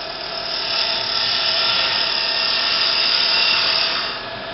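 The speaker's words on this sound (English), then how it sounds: "And the scraper really will give you the finest cut on this end." A scraper cutting the end of a wooden lidded box spinning on a lathe gives a steady, fairly loud whirring hiss that holds for about four seconds and then fades as the cut ends.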